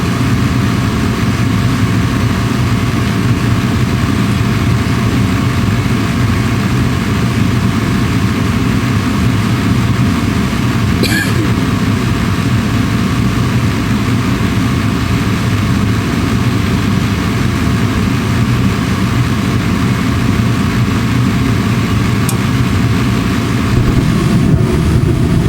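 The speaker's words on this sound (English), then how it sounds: "our inverter motor just started" A furnace inverter motor runs with a steady, close, low droning hum that holds unchanged throughout, with a single faint click partway through.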